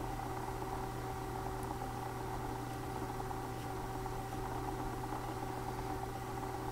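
Spinolution Firefly spinning wheel whirring steadily at higher speed, a constant close mechanical hum with faint buzzing tones and no pauses.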